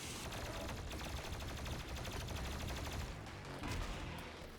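Plasma rifle fire in the video game Doom Eternal: a rapid, dense stream of sharp energy shots that runs continuously and loud for the whole stretch, with no talk.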